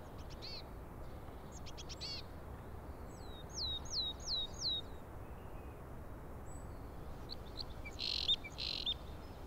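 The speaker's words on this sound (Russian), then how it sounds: "А вот птица, которую должны знать все, потому что ни у кого больше нет такого клюва. Зовут ее клест." Crossbill calls at Lake Teletskoye in the Altai: short repeated chirps and quick rising notes in a cluster, moderately near, over a steady background hiss of forest ambience with no voices.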